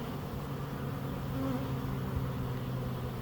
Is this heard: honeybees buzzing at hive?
yes